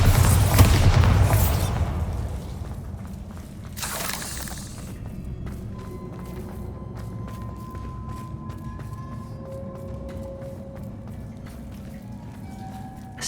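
Bombarda and Confringo blasting spells in the video game Hogwarts Legacy, with two loud booming explosions close together at the start, then a faint crackling, dripping tail of debris with thin tonal hums.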